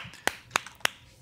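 Three crisp finger snaps, evenly spaced about a third of a second apart, close and sharp against a quiet room.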